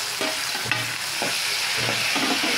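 Onion and tomato frying in oil make a constant close sizzle, broken by repeated stirring scrapes at a slow, irregular rhythm.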